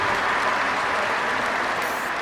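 Steady crowd applause fills an arena at a diving event in the London 2012 Olympic video game, a dense, even roar of clapping that stays loud throughout with no talk over it.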